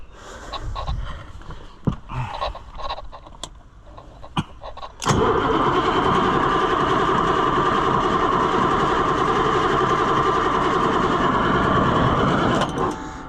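A Caterpillar 3208 diesel V-8 in a White 4-150 tractor cranks with a few sputters, then catches at about five seconds and runs steadily, loud and close, until near the end.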